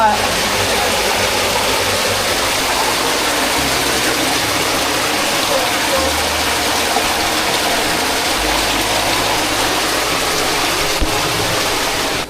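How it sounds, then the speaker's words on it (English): Small waterfall inside a cave at a Virginia state park, a steady full-band rush of falling water filling the whole stretch with a constant close roar and a low mechanical rumble beneath. "there's a small waterfall in there"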